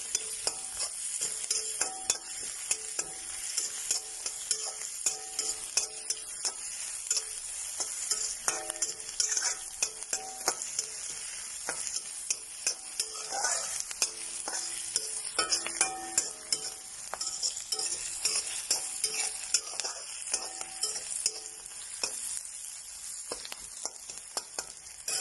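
Onions sautéing in a pan for a soybean and green pea vegetable kurma, a steady broadband sizzle with continuous scraping and stirring strokes throughout, close and fairly loud, no talking.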